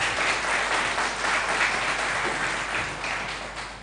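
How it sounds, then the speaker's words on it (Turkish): Studio audience applause for Sefer Duran on a Tokat-themed television show, a dense, even roll of clapping that holds steady before easing slightly toward the end. "Bu alkışlar da Sefer Duran'a gitsin."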